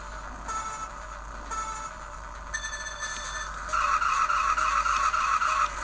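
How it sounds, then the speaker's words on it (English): The Raging Thunder car racing game plays on a Palm Tungsten T5 handheld, with a continuous synthetic engine drone and electronic tones. A rapid, pulsing squeal-like effect becomes louder toward the end. "this is a car racing game that's really fun to play."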